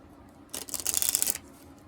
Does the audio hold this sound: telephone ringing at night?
no